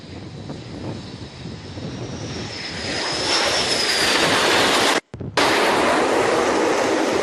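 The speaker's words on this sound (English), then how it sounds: "touching down with over 100 knots, the arresting wires across the deck will bring it to a speed of down to 0" A jet aircraft lands on an aircraft carrier deck at over 100 knots and is caught by arresting wires during a US Navy 250th anniversary fleet event; a loud, steady engine roar swells and intensifies, then briefly cuts out before resuming.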